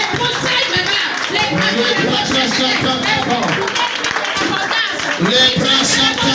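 A church congregation at prayer claps and calls out together, a dense ongoing patter of hands under loud voices and shouting all the way through.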